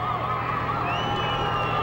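A large crowd cheers at the UConn championship parade at the Capitol, a dense, continuous wash of shouting and whooping with a steady low hum beneath.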